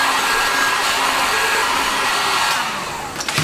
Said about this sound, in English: the first step that we got to do is heat it up with a heat gun here